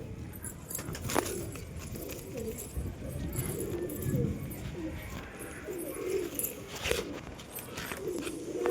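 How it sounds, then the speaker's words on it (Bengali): A pair of black-tailed pigeons, a male and a female, coo softly and repeatedly at close range, with a faint hiss of background noise and a few short sharp clicks. "এই যে কবুতর দেখো"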